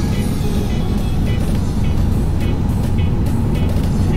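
A Sugeng Rahayu intercity bus on an Indonesian road, heard from inside another bus: a loud, close, continuous engine and road rumble with a rushing wash of traffic noise throughout.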